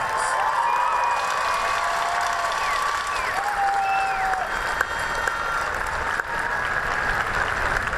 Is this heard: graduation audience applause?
yes